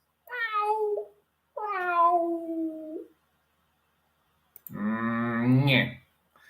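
A pet cat meows three times, each long, drawn-out call loud and close, separated by short silences, with no talking.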